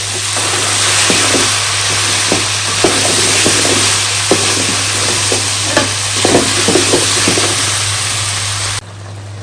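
Mung and masoor dal stirred in a pan for Bengali pachan, a constant loud background hiss with repeated soft scraping strokes of a spoon against the pan, close up.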